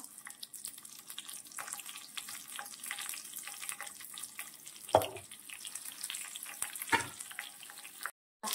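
Cumin seeds and curry leaves sizzle softly in hot oil for a tadka, a faint, steady crackle broken by a couple of sharper clinks from a utensil.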